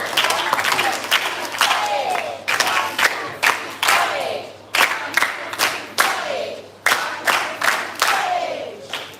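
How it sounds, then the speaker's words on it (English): An audience at a 4-H Club public speaking competition in Dominica gives the long 4-H clap, rhythmic rounds of loud crowd clapping with cheers, each burst swelling and fading in a steady repeating pattern. "let us give all our primary school competitors, our primary school clubbites, the long 4-H clap"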